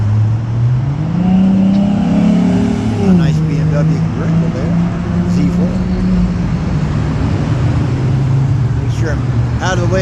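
A BMW Z4 convertible passes on a roadway heard from a recumbent bike ride, its engine tone rising and then falling as it goes by, leaving continuous traffic and road noise behind.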